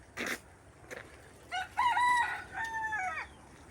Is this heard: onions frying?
no